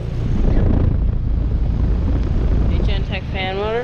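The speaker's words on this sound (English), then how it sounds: "2017 4-ton Trane XR heat pump starting up." A 2017 Trane XR14 4-ton heat pump with a scroll compressor runs in heat mode outdoors, a steady low rumble and fan whoosh throughout, with wind buffeting the microphone and a faint tonal whistle near the end.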